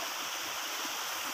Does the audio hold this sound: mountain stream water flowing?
yes